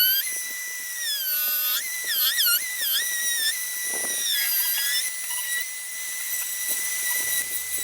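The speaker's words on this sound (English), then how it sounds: "we are freestyling this with a little quick Dremel carving to make a wave pattern for the top" A Dremel rotary tool carves a wave pattern into the wooden top of a box with a high, shrill whine that rises and wavers as it cuts, steady and close for several seconds.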